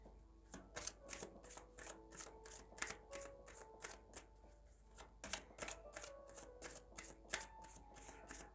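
Lenormand cards shuffled by hand, a rapid run of crisp riffling flicks and soft slaps repeating in bursts, close and clear, with no talking.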